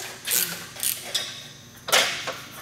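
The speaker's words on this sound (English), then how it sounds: "the first thing we're going to do is tighten down the U-bolt. This is 14 millimeter on the U-bolt." Wrench tightening a 14 mm U-bolt clamp on a VW MK4 downpipe, heard as a few short metallic ratcheting, creaking bursts at close range with pauses between them and no talk.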